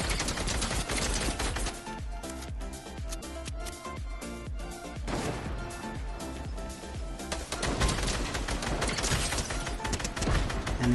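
A video game boss fires guns in a dense, continuous barrage of rapid shots across an escape-and-boss-fight map, loud and unbroken throughout with busy game noise beneath.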